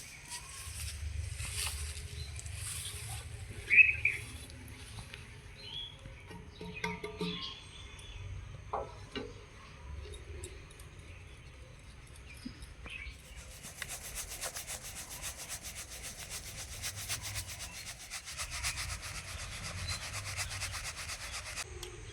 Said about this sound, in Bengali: এখন এটাকে আমি যেহেতু কেনা চালের গুঁড়ো তাই চেলে নেব।